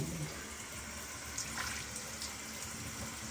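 Indoor tap running steadily into a sink, water for houseplants, a continuous close hiss and splash with small bubbling changes and no talk.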